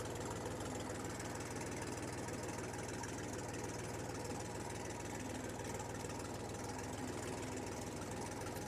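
A Xingtai 240L minitractor engine runs steadily and evenly, a constant low chugging drone with a slight knock, close by and without pauses.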